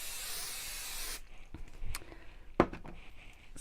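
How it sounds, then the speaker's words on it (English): A steady hissing of 505 adhesive spray onto fabric for about a second, then it cuts off, followed by a few soft handling sounds and a sharp tap. "I'm going to use a 505 spray just to hold that in place."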